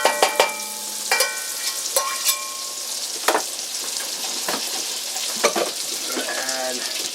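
Butter melts in a cast iron pan, giving a close, steady sizzle under intermittent clinks and scrapes of a utensil, with sharp metallic taps scattered through it and no one speaking.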